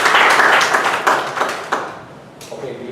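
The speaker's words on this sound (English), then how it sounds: "give him a huge round of applause" Applause from a Toastmasters meeting audience, a dense wash of clapping that rises at once and then thins and fades toward the end, with a few late claps.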